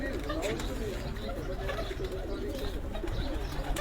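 Pigeons coo in low, repeated murmurs from a rooftop, with a steady crowd of background chatter and voices over them.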